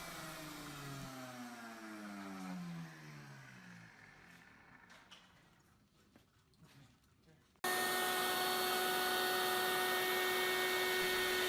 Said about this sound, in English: And here's the second slot that I'm cutting now.